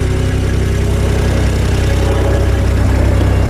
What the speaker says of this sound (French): On l'appelle Kubota, mais tu peux dire RTV ou véhicule utilitaire.